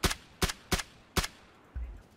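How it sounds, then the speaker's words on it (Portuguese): Suppressed gunfire in the video game PUBG Battlegrounds: four sharp, evenly spaced muffled shots with a duller thump at the end, fairly close and heard without talk. "eles estão dando tiro silenciado"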